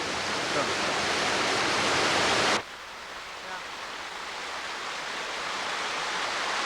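A 40-foot waterfall on a river pours as a loud, steady broadband roar that cuts off abruptly partway through, leaving softer, distant rushing water for the rest of the clip.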